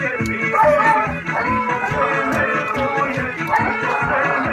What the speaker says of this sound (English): Even the dogs are singing.